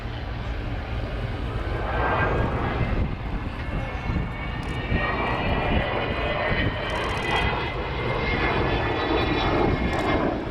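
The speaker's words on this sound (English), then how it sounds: "here is the proper Vulcan display. X-Ray Hotel 558 flies" Avro Vulcan XH558 jet bomber flying a display at RAF Waddington, a loud sustained jet roar filling the whole stretch with a rising whistle, heard from the ground over crowd noise.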